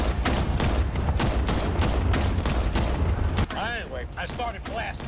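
Rapid gunfire from the Batman Arkham Knight video game pounds loud and dense for a few seconds, a steady barrage of blasts that cuts off abruptly, followed by whooshing game effects and a voice.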